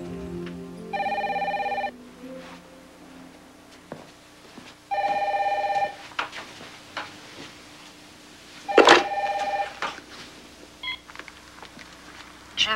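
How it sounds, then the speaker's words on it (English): Telephone bell ringing in repeated bursts, loud and close, with short gaps between rings and faint room noise in between. "get the phone"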